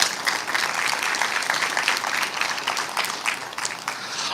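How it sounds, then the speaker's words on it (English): A crowd gathered for a high school ribbon cutting gives a steady, moderately loud round of applause, dense clapping holding evenly throughout with no speech over it. "So give them a round of applause as well."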